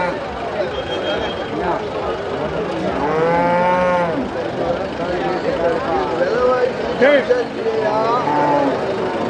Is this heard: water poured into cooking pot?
no